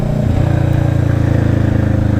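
A loud Kawasaki Vulcan S 650 engine idles with a deep, rapid, throaty pulsing from a rumbly Two Brothers aftermarket exhaust fitted with a baffle, close by and steady.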